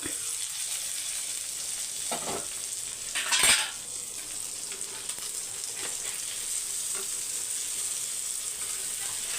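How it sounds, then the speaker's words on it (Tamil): Fish fries on a hot flat dosa griddle, a steady bright sizzle and crackle close by, with one sharp metallic clatter partway through and faint stirring touches. "இந்த பக்கம் மீன் வந்து வறுக்கட்டும்"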